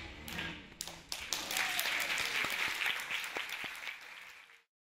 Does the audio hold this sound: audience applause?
yes